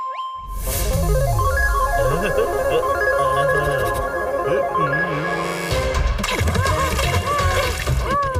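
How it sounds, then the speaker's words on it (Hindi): Strong rushing water current in a Hindi kids' cartoon, loud continuous splashing and sloshing under cartoon sound effects and music, with a brief break near the end. "बहाव बहुत तेज है।"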